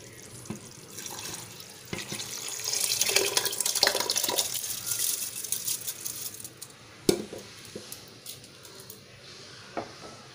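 Water pours and splashes into a pot of soaked jeeraga samba rice for biryani, a close, uneven gushing trickle that runs for several seconds and then breaks into scattered drips and light clinks.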